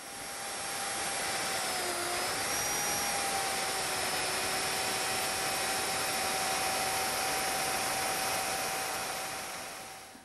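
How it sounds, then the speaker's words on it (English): A power tool with its cutter set to depth cuts mortises into the wooden underside of a serving trolley's lower deck in a woodshop, giving a loud, steady, high-pitched whine that runs unbroken from start to finish with no talk. "Now I'm ready to cut the mortises in the underside of the lower deck"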